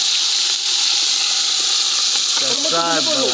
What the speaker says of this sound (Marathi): आता मटण आपलं तळून निघणार आहे